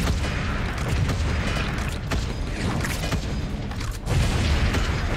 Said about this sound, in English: Might actually benefit from using the bombs here.